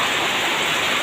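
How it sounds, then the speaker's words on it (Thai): Heavy rain pours down during a nighttime storm with wind, a loud, steady, dense hiss of falling water with no pauses. "ทั้งฝนทั้งลมนะฮะ"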